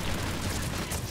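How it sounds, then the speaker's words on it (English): A loud, broadband explosion rumbles in the Mass Effect 3 multiplayer shooter, a detonation set off with an Asari Huntress's dark channel: a thick, sustained blast wash filling the whole short moment, with no talk. "Beautiful explosion."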